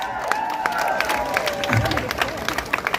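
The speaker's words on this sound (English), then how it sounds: "Give yourselves a round of applause for that." Audience at a Kingdom Come: Deliverance fan festival in Malesov claps and cheers in a sustained burst, a broad wash of applause with crowd babble mixed in, steady throughout.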